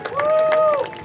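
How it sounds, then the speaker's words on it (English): Spectators at a high school girls soccer senior night, West Prairie versus James Buchanan, applaud the class of 2022 seniors with a short burst of clapping and a sustained cheering whoop, moderately loud and close. "How about one more big round of applause for the senior girls soccer members"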